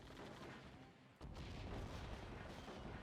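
Mortar shells land and burst in the strategy game Act of Aggression: a dense, rumbling barrage of distant explosions and gunfire that grows louder after a short lull and keeps going, faint in the mix.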